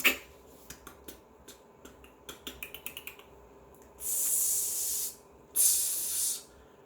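A voice imitates a spray paint can hissing, giving two sustained hissing bursts of about a second each after a run of short clicks and snaps.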